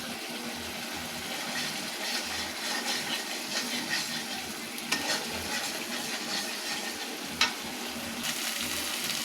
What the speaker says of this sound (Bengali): এখন এগুলোকে ভালো করে কষিয়ে নেব